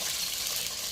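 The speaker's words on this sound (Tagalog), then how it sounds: "Yan, ilalagay ko na yung tubig." Water poured into a pot while cooking Filipino nilagang baboy, a brief steady gushing splash at moderate volume with no talking.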